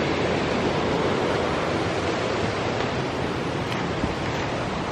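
A waterfall running hard beside a hiking trail, pouring over a small cave; a steady, dense roar of rushing water fills the scene, close and continuous, with no speech.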